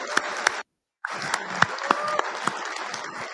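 Audience applause at the 2024 MCA Installations and Logistics awards dinner, a steady wash of clapping with a few sharp nearby claps, briefly cut off in the middle and then resuming.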